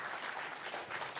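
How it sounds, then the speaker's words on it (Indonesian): Brief applause from a church congregation during an online Indonesian worship service, a short burst of fairly distant group clapping heard on its own. "Berikan tepuk tangan dong buat Tuhan kita."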